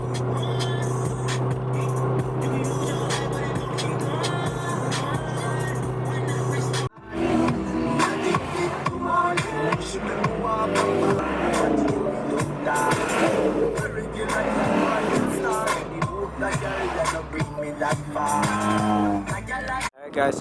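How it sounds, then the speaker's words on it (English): Road traffic on the way to a street car show rolls by in a continuous engine drone, a vehicle idling up close, then passing cars and revving under scattered voices. "All this traffic."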